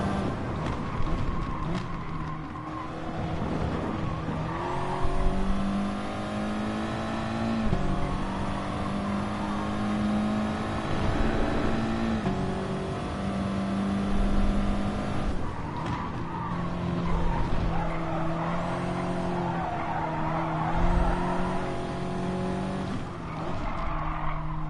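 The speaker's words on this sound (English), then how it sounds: "V12, wow, in a Supra." A V12-engined Toyota Supra races in Gran Turismo Sport, its engine howling loud and continuous with pitch climbing and dropping through gear changes, and tyres squealing and skidding on corners.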